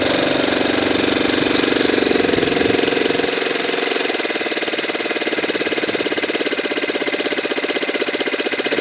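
Saito twin-cylinder model engine running after its mixture was leaned: a loud, rapid, rattling buzz of firing pulses that holds steady throughout, its low rumble thinning out partway through, with no voices.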